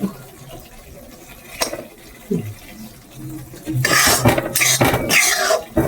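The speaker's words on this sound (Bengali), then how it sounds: "এবার একটু জল দিয়ে দেবে, একটু গা মাখানো" Water poured into a pan of cooking fish curry, a splashing gush with clattering utensil sounds near the end, following quieter kitchen clinks and faint voices talking.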